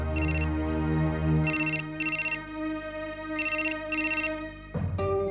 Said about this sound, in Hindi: सॉरी, घर से फोन है।